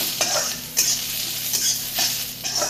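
Cluster beans (gavar) stirred and fried in a pan, with a steady close sizzle and repeated scrapes of a spoon against the metal every half second or so, and no voices.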